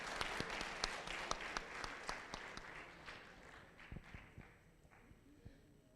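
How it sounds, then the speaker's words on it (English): An audience at a 16 Days of Activism against Gender Based Violence event claps: scattered, fairly faint hand claps with a few sharper individual ones early on, thinning out toward the end. "Please give them a round of applause."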